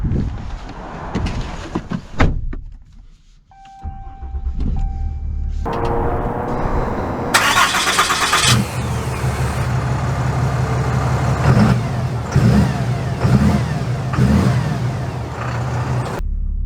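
A Ram 2500 AEV Prospector XL heavy-duty truck starts up and settles into a steady, loud engine rumble, with a rising rev and sustained drone filling the rest of the stretch.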